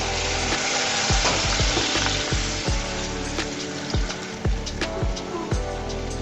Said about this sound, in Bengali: এই পর্যায়ে দিয়ে দিব পানি।